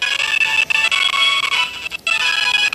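A phone rings indoors: a bright, sustained electronic ringtone with short repeating breaks in its pattern, loud and close, with no other sound around it.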